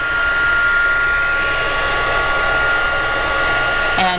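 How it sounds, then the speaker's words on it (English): A Stampin' Up! heat tool runs on its high setting, a loud, steady close-up blowing roar with a thin tonal whine, unbroken until a small knock at the very end. "taking your heat tool, your Stampin' Up! Heat tool, and put it on high, let it heat up"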